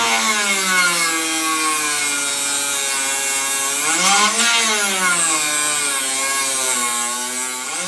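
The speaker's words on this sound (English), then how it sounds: "You can use a diamond disc cutter on a Dremel." A Dremel fitted with a diamond disc cutter slices into wood on a model boat build, a steady high-pitched whine that dips in pitch for a moment under load, close and continuous with no talking.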